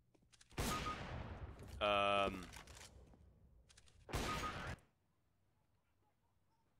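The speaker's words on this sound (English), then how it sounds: "Those last two shots are really weird." Two sharp gunshots from the video game CS:GO, several seconds apart, with a brief tonal game sound between them and quiet afterward.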